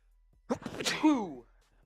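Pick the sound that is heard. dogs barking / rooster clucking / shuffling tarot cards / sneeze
sneeze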